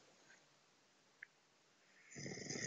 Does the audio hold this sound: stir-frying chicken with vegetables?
no